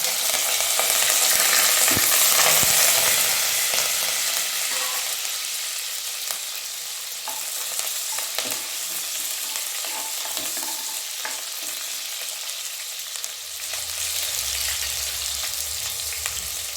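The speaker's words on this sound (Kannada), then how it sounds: "ಇವಾಗ ಒಗ್ಗರಣೆಗೆ ಅಂತ ಈರುಳ್ಳಿ ಏನು ಎತ್ತಿಟ್ಕೊಂಡಿದ್ನೋ ಈರುಳ್ಳಿ ಹಾಕ್ತಾಯಿದ್ದೀನಿ" Onions frying in tempering oil for enne badanekai hiss loudly at first, then settle to a steady crackling sizzle broken by repeated stirring scrapes, close and alone.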